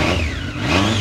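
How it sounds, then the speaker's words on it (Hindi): A Triumph cafe racer motorcycle engine revs close by, a loud continuous mechanical roar with a rising whistling tone, no talking. "जो कि ट्रायम फेमस है विस्लिंग साउंड के लिए"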